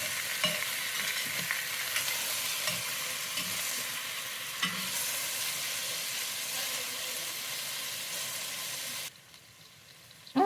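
Beef browns in a pot for an old-fashioned beef stew, sizzling in a dense, steady crackle with occasional stirring scrapes. The sizzle drops sharply to a quieter level near the end.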